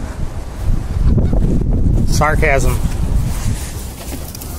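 Extreme wind gusts roar and buffet the microphone outdoors beside climbing roses as a loud, constant low rumble, with a person briefly talking partway through.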